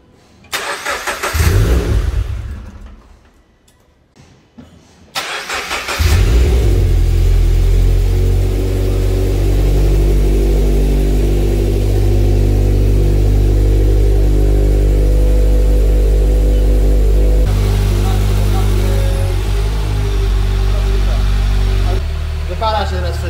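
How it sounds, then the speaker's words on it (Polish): A turbocharged Toyota GT86 engine cranks and fires up after a few seconds of handling noise, then settles into a loud, steady idle close by that holds to the end. "I To posłuchamy silnika w końcu"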